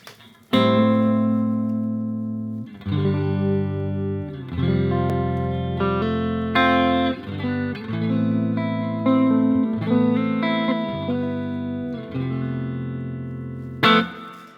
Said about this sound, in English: So obviously the reverb immediately just makes that sound.